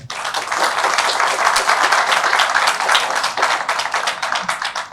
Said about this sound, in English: now one big round of applause for her